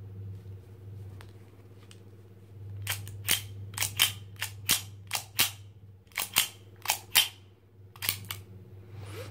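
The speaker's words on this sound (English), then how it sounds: "just pull this trigger and it will shoot" A Zoraki 2914 9mm blank pistol fires about a dozen sharp, loud cracks in quick irregular succession, each with a short metallic snap, over a low steady hum.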